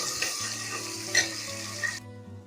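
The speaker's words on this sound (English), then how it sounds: "I'll be adding the ginger garlic paste. I'll be adding the green chilies. And let's fry them." Ginger garlic paste and green chilies frying in hot oil with curry leaves, a steady close sizzle with a couple of sharper spits, cutting off abruptly near the end to a faint low hum.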